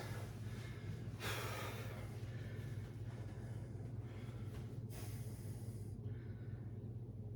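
Heavy, rhythmic breathing after a dumbbell workout, a few loud gasping exhales over a steady low hum, fairly quiet and close.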